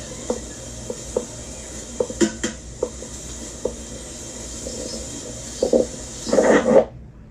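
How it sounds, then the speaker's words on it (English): Onion pieces sautéing in an Instant Pot for beef stroganoff, a steady low sizzle with scattered taps and scrapes of a utensil stirring against the pot, ending in a louder burst of stirring. "we're going to saute that for a few minutes"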